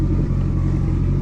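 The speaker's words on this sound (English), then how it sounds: "It runs. It's sitting at about 1500 RPMs right now." A Mitsubishi Evo 9 engine with a new turbo system idles steadily at about 1500 RPM on its first start, a loud, close, constant low rumble with no talk over it.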